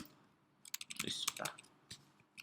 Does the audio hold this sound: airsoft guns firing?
no